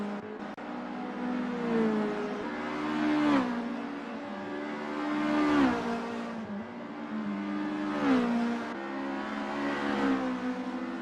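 Volkswagen GTi race cars in an SRA 2025 GTi Challenge race, engines revving hard and rising through gears in repeated waves as cars pass close by, loud and continuous with no talk.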